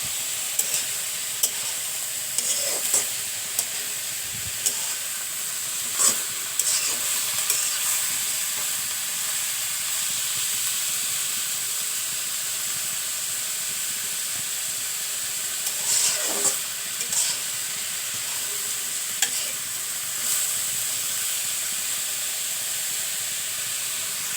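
Cauliflower greens frying and being stirred in a pan, giving a steady soft sizzle with a few sharper scrapes and clatters of the spatula spread through the clip, no talking.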